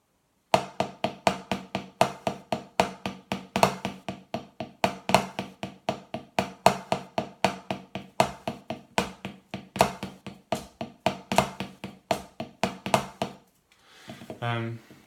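A drummer alternates between Swiss triplet and free stroke roll patterns, producing a steady, dense stream of crisp, close strikes with accented groupings that runs without pause, followed by a brief spoken voice at the end.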